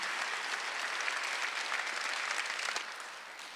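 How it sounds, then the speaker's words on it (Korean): A Korean church congregation at Sunday worship bursts into sustained applause, dense and even, tapering off in the final moment. "믿는 사람만 박수 한번 해주세요"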